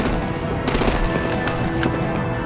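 Rapid gunfire rattles nonstop in the video game Batman: The Enemy Within, dense automatic bursts with sharper single cracks layered over a loud, continuous din.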